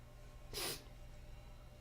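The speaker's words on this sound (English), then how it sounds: "You're going to sniffle up every 2 seconds? I can't control when my nose sniffles." A single short nasal sniffle close by, one brief burst standing out against a quiet, steady background hum with no talk.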